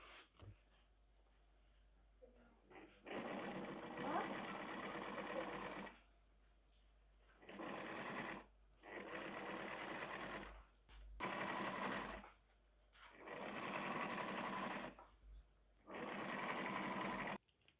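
Sewing machine stitching canvas held with double-sided tape for a knife roll, running in repeated loud close bursts of a few seconds each, separated by brief quiet gaps.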